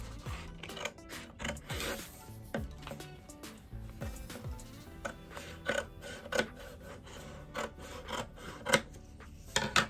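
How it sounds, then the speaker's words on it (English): Vinyl sheet is cut out for a glass etching project, heard as repeated close, scratchy rasping strokes at an uneven rhythm, with faint music underneath. "So what I'm gonna do is go ahead and cut out the part that we're gonna be using for this"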